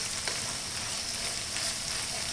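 Mutton keema curry sizzling steadily in a pan while being stirred, a constant close frying hiss with a few faint scrapes, no talking.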